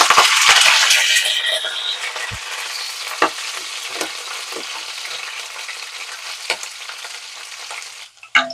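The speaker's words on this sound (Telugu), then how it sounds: "ఉల్లిపాయను పచ్చిమిర్చి కరివేపాకు వేస్తున్నాను" Onions, green chillies and curry leaves frying in oil in a pan make a loud, steady sizzle that starts fiercest and settles into a crackling hiss, with occasional stirring clicks.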